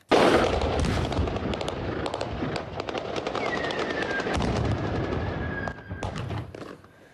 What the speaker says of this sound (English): Gunfire and explosions aimed at peaceful protesters today, not far from the Zaporizhzhia nuclear power plant.